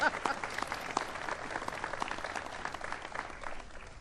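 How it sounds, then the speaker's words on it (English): Audience at a 2012 top cops award event gives a round of applause, steady clapping at moderate volume throughout, with a few scattered louder claps and some faint crowd noise. "So give him a round of applause for that."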